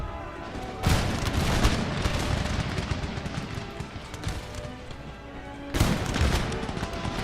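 Cannon artillery firing in the Empire: Total War battle game, two sharp booming blasts several seconds apart over a continuous crackle of distant gunfire and battle noise.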